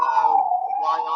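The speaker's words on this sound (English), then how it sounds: "There was an ambulance outside." An ambulance siren sounds outside as one steady, wavering electronic wail, clear and fairly loud for just over a second, with no voices over it.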